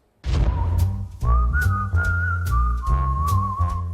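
A man whistles a bright melody up close, held notes gliding between pitches, with steady background noise underneath.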